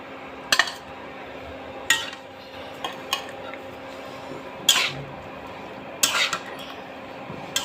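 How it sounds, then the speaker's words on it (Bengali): Pieces of fried radish, eggplant and potato dropped into a cooking pan of spices, heard as a few separate clinks and clatters of utensil against metal spaced across a quiet background. "এখন এর মধ্যে দিয়ে দিব ভেজে রাখা মূলা, বেগুন, আলু"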